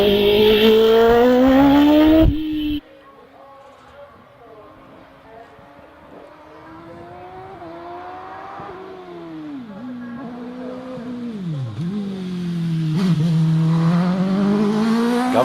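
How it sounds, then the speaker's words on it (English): An OMS 3000M hillclimb race car at a Harewood practice run screams past, its loud high-revving engine cutting off abruptly, then climbs away with rising and falling gear-change whines that swell again toward the end. "Passing the commentary box at the moment, Nigel Pitt. Nigel in the OMS 3000M"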